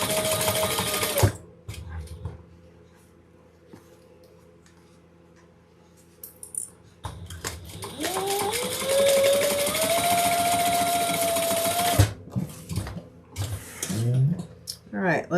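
A sewing machine stitches a garment seam up close in two runs: a short burst at the start, then a long steady whir after a quiet gap, ending in clicks and handling noise.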